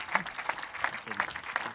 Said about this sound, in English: Round of applause for Miles.